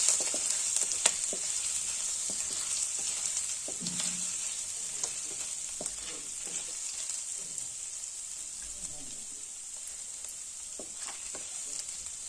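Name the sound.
frying finely chopped ginger in a pan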